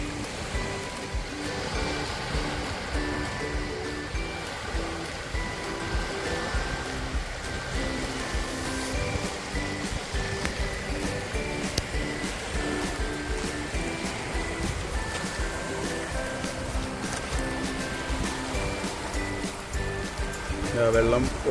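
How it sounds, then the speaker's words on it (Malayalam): Shallow stream of water trickling across the sand into the sea at Ghubra beach park in Muscat, Oman, with surf nearby. It is a steady, continuous wash throughout, mixed with people talking. "വെള്ളം ഒഴുകി വരുന്നുണ്ടല്ലേ"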